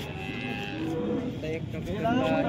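A cow moos in a few drawn-out, low calls close by at a cattle market in Modnimb, with faint murmuring voices and background noise around it.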